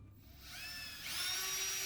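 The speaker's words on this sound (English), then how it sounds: "I drill it out, all right?" A power drill bores a hole through a sealing strip for a KBH conductor bar, widening an existing pilot hole; a steady high whine starts up and rises in pitch and intensity partway through, close and alone.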